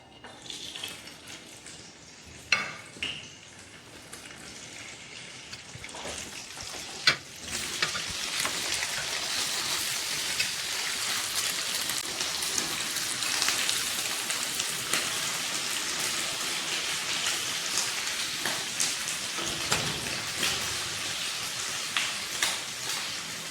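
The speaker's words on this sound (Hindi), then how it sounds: "अब इसको फ्राई कर लेंगे इसमें।" Mutton chops fry in cooking oil, a dense, even crackling sizzle that swells after a few early knocks and holds loud and steady throughout, like heavy rain, with no voices.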